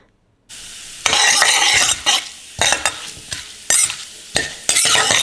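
Mustard seeds, cumin and urad dal sizzle and crackle in hot oil, starting abruptly after a brief silence and continuing as loud, bright frying with repeated bursts from stirring, no voices.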